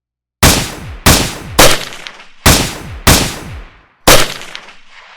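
Gunfire in a nighttime shootout: six loud, close shots spaced roughly half a second to a second apart, each a sharp crack trailing into a long echoing decay, with no voices.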